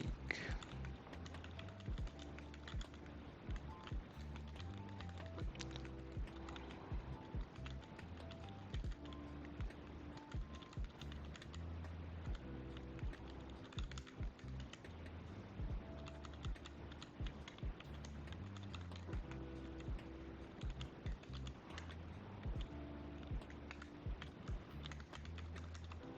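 Continuous quick clatter of keys on a computer keyboard, steady and close, running without a break under a faint background hum.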